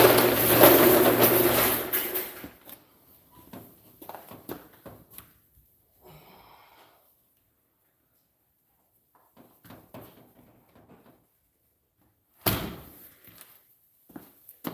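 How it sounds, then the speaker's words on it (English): Doors being shut to keep the heat inside a work space: a loud, rumbling burst at the start, quieter scattered knocks and shuffling, then one sharp bang near the end. "I can go ahead and close up these doors and not lose all of my heats."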